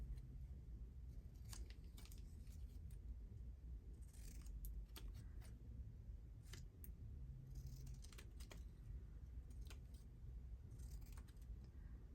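Scissors trim paper scraps at a craft table with quick, close, crisp snips in short irregular bursts over a low steady hum.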